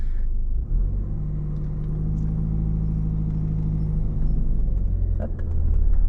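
Car engine rumbling steadily at low pitch during a driving lesson in a learner's car, a continuous near drone with slight swells as it pulls away, no talk over it.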